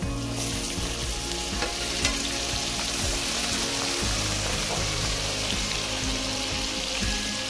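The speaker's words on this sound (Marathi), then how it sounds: "आणि मिरच्यांना भू देऊया थोड्या वेळ." Whole green chillies frying in hot oil for Maharashtrian poha chiwda, a steady, dense sizzle and crackle close up that runs unbroken throughout with no talking.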